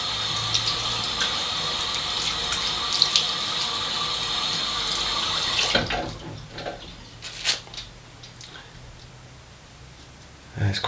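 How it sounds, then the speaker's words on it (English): Running tap water at a bathroom sink as a face is splashed and wetted, a steady rushing stream for several seconds that then cuts off, leaving scattered drips and small splashes close by. "So I just wet my face."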